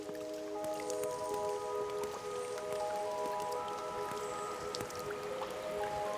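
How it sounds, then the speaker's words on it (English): Glacial meltwater drips inside an ice cave beneath a glacier dome, with faint, irregular drops and small splashes over a low steady wash of flowing water. "Drop by drop, the glacial dome releases its waters into the icy stream below"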